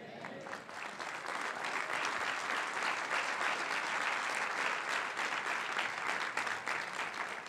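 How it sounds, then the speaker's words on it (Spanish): Church congregation applauding during a service, dense and even clapping that swells after the first second and stays steady and full to the end without speech. "Denle otro aplauso al Señor. Déselo fuerte."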